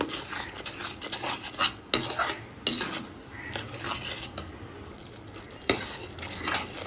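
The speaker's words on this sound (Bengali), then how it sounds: "এটা দিয়েও ভালোভাবে সমস্ত মশলার সাথে মিশিয়ে নিচ্ছি" Ground paste of ten or twelve cashews is stirred into spices in a pan for stuffed Kashmiri aloo dum, making repeated scraping strokes and spoon clinks over a faint sizzle.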